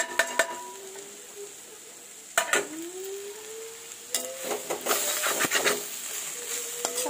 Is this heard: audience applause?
no